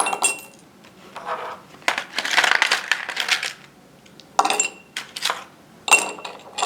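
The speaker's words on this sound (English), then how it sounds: "we're going to take some ice cubes and we're going to add them to our jar here" Ice cubes dropped into a glass mason jar, giving a series of sharp clinks and rattles in irregular bursts, loud and close, with no voices.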